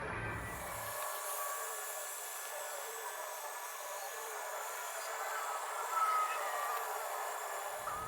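A heat gun warms the 3M adhesive tape on a 2015 Mustang GT spoiler, giving a loud, steady blowing roar that runs unbroken from start to finish with no talk.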